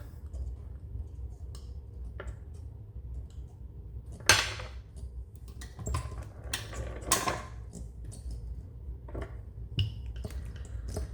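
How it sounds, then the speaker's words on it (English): Polymer clay rolled flat and fed through a pasta machine, heard as soft mechanical cranking and ticking with a few sharper clicks and rattles over a low steady hum, close by with no talk. "I'm gonna feed it through the pasta machine"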